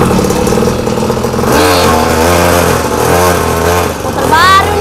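A new motorbike's engine revs up close and loud, its pitch climbing and falling in repeated pulls over a rough rumbling background.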